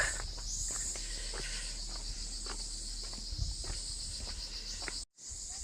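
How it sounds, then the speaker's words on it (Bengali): Crickets call steadily along the path to Arwah cave in Meghalaya, a constant high shrill chorus with footsteps crunching beneath, cutting out briefly near the end. "মাস মাই কেভের মতন এখানেও সেই জেজি পোকার ডাক"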